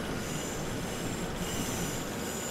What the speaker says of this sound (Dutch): En ondertussen komen hier een hoop mensen weer wat treinen binnen.